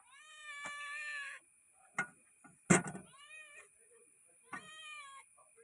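Several cats meow in a fish-selling setting where sardines are sold, with a long meow followed by shorter ones and a sharp clatter, all close and fairly clear.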